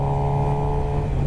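Suzuki GSX-R 750 motorcycle engine held at a steady, loud drone during a downshift with the front brake applied, a continuous close-up hum with no talk.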